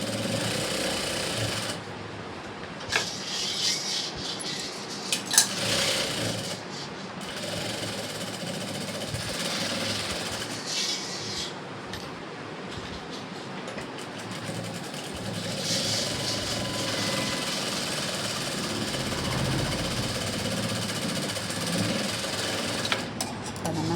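A sewing machine stitches a blouse seam, its rapid mechanical needle chatter running steadily and fairly loud across the whole stretch, with brief pauses and a few clicks between runs.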